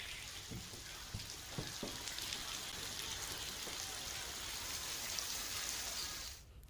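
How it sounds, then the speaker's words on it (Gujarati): Rain falls over villages near Dhari in Gir, Gujarat, a steady soft hiss of drops with a few faint taps, fairly quiet and continuous until it fades at the end. "આસપાસના ગામો છે ત્યાં વરસાદ વરસી રહ્યો છે"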